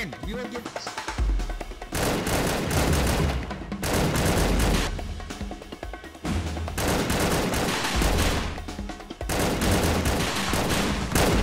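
Gunfire in Minecraft rattles in long, loud, rapid bursts with short pauses between them, while voices talk over the shooting.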